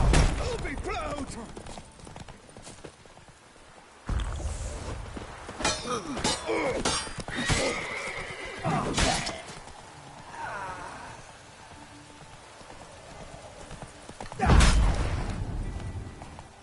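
Hooves and a horse's whinny from Roach in the video game The Witcher 3, heard in scattered bursts of clip-clop and impacts over game audio, with someone talking at the start.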